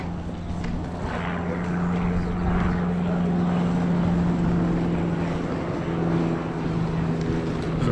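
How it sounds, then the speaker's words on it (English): A continuous engine drone from a small plane doing aerobatics overhead fills the air, rising and falling slightly in loudness over steady outdoor background noise. "There's a plane doing like somersaults and things above me."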